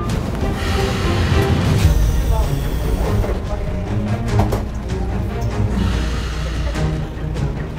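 Crowded metro train carriages, a loud, continuous rumble of a moving subway train with rattling and clanking throughout, and indistinct passengers murmuring under it.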